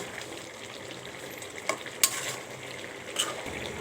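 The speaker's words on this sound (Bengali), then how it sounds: "এবার একটু নেড়ে চেড়ে দেখব ভালোভাবে সিদ্ধ হয়েছে কিনা।" Boiled food being stirred in a pot, a steady soft simmering hiss broken by a few sharp scraping clacks of a utensil against the pot near the middle and toward the end.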